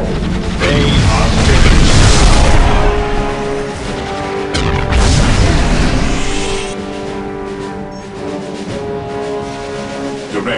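Heavy battlefield fire from the Warhammer strategy game Dawn of War: dense, loud booms and crashing explosions pile up over steady musical tones, easing slightly toward the end.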